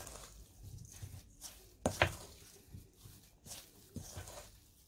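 Mashed potato latke mixture with matzah meal, salt and spices is stirred in a bowl for Passover latkes. Soft squishy scrapes and a couple of sharper knocks against the bowl sound faint and close, with no talk.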